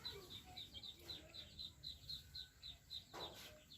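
F1 hybrid red junglefowl calling with a rapid, evenly spaced run of thin, high peeps that repeats for several seconds. The calls are faint, with soft low murmurs underneath.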